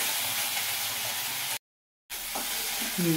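Crushed onion, ginger and garlic paste frying in hot oil while being stirred, a steady close sizzle and hiss that briefly cuts out, then resumes with faint scraping.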